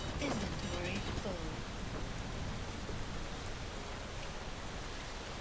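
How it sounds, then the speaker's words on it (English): Steady rain and misty weather on a planet in the video game Space Engineers, a dense even hiss throughout with faint rumbling underneath and a voice briefly audible at the start. "it's always rainy and misty on these planets."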